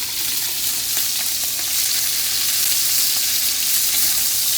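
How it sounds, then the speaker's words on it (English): Pork medallions sear in a very hot pan with a loud, steady, close sizzle and crackle that continues throughout without any voices. "you want a really deep sear on the outside"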